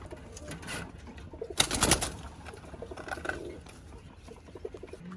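A female Australian gugu dove coos a few soft, low calls at close range, with one louder burst of activity near the start and quieter murmurs afterward.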